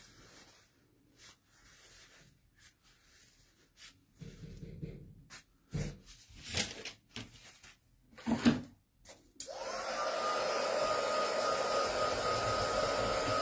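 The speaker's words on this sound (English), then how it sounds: "So I'm going to get out my heat tool and dry this for a second." After several seconds of scattered handling clicks and rustles on a craft table, a heat tool switches on and blows a steady, loud whirring hiss to dry a one-of-a-kind craft project.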